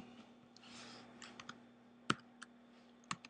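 A few sparse, sharp clicks and taps on a computer keyboard, close but quiet over a low steady hum, spaced irregularly rather than in a fast typing rhythm.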